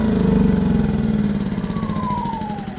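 Yamaha EF2200is inverter generator switched off, its engine hum and pitch sliding downward as the unit winds down, loud and close with no talking.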